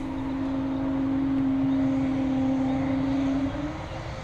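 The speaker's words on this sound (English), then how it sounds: "Nice aircraft, the Embraer." An Embraer airliner at Dublin Airport drones with a loud, steady engine whine that holds for several seconds before easing off slightly toward the end.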